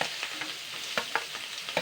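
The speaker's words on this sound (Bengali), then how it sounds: "খুব বেশি ভাজার দরকার নেই জাস্ট পেঁয়াজের কাঁচা গন্ধটা চলে যাওয়া অবধি অপেক্ষা করতে হবে" Chopped onion frying in a pan, with a soft sizzle broken by quick spatula clicks and scrapes against the pan.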